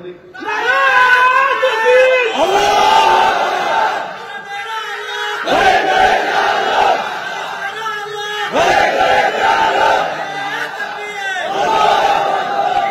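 A large crowd chants a takbir slogan in loud, rhythmic bursts at a Bengali Islamic gathering, with voices rising together and pausing between repeated calls.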